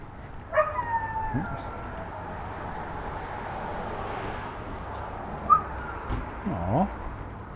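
A dog on a summer town walk in Driggs, Idaho, lets out a drawn-out howl followed later by short yips and a whimpering bark, moderately close over steady outdoor background noise.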